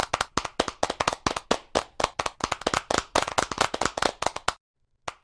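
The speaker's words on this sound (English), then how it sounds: "If you press F4, you can clap your hands." Rapid, sharp clapping from a small group goes on steadily for several seconds, then stops abruptly and leaves silence.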